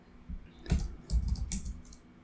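Several keys clack on a computer keyboard in short irregular bursts, close and fairly quiet, with no voices.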